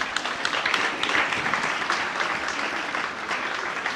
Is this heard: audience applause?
yes